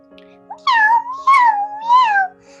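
A cat meows three times, clear and close, each call rising and falling, with a faint steady hum underneath.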